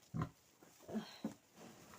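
A sow grunts in a pen a day after farrowing, three short close snorting grunts spaced irregularly over about two seconds, with quiet rustling between them.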